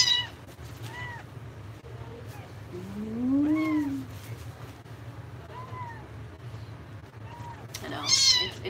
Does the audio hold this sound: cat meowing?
yes